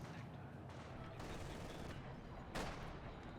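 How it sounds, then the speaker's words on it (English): Distant 120mm mortar fire in the Company of Heroes 2 video game, a steady rumble of battlefield gunfire and blasts with one sharper report standing out near the end, no voices. "120mm mortar doing its job."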